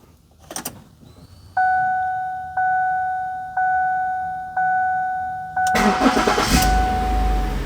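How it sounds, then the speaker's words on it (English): A 2008 Ford Edge sounds several evenly spaced two-tone warning chimes with the ignition cycled, then the engine cranks and catches, settling into a steady, close idle. "I'm going to go ahead and cycle the ignition and start the car."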